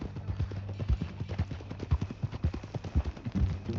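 Horse hooves clip-clop at a steady walking rhythm in the Western video game Red Dead Redemption 2, close and clear, with a low ambient bed underneath.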